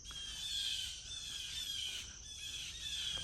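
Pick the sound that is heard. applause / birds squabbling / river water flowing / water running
birds squabbling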